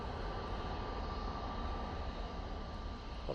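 An EasyJet airliner taking off from Manchester Airport, heard as a steady distant engine roar, even and unbroken, fairly faint.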